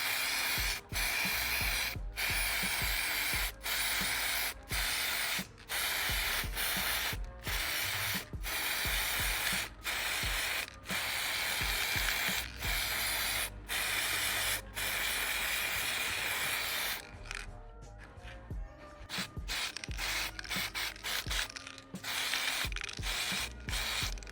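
Aerosol spray paint hissing onto a thrifted blazer in a long run of loud, steady bursts broken by brief pauses, with no talking over it.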